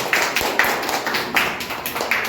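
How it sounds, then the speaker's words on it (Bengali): Children clap together in a classroom, a few sharp bursts of applause arriving in quick repeated groups, close and fairly loud. "সবাই রিঙ্কির জন্য হাততালি"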